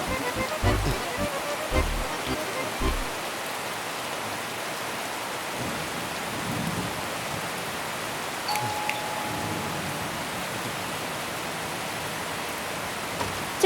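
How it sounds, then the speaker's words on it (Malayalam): Heavy, steady rain pours down as a dense, even hiss that fills the whole stretch, with a few thumps and brief voices early on. "ഓ എന്നാ മഴയാ."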